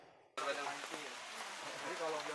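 Rain falls outdoors at a mosque in the Washington DC metropolitan area during Eid al-Adha prayers, a steady broadband patter that begins abruptly after a near-silent moment and continues evenly, with faint voices mixed in.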